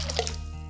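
Water runs steadily from a tap into a cooking pot holding crushed garlic, a short continuous splashing pour heard close up with no talk.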